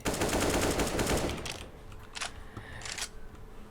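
Rapid SMG fire in the video game CS:GO Zombie Escape, a dense burst of automatic shots filling the first second and a half, followed by a few sharper isolated bursts fading out.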